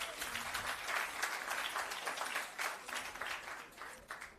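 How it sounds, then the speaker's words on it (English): An audience at a shelter recovery handover ceremony in St. Elizabeth gives a sustained round of applause, dense clapping that holds steady before tapering off near the end. "Give the team a round of applause."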